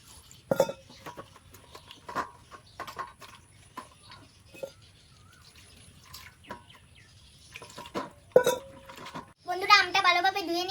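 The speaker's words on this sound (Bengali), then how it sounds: "জল দিয়ে ধুয়ে নেব ভালোভাবে" Raw green mangoes are washed with water in a kitchen, with scattered clinks of pots and utensils and a few splashes, then tap water running near the end while a voice talks quietly in the background.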